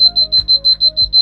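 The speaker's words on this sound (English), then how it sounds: "the alarm is still going to sound" A flame sensor's piercing electronic alarm buzzer beeps in a steady, rapid pulse, eight short tones in just over a second, loud and close with nothing else behind it.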